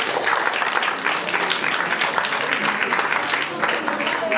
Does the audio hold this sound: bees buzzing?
no